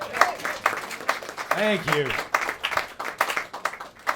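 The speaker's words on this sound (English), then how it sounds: "Let's have a big round of applause" A live literary reading audience applauds, a spread of clapping under a voice as he speaks.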